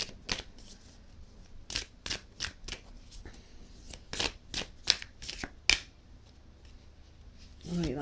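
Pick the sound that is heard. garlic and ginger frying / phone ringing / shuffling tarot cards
shuffling tarot cards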